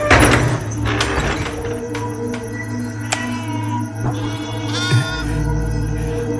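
Sheep bleat several times amid a busy indoor scene with thuds, a low steady hum and other clatter, the calls fairly close and moderately loud.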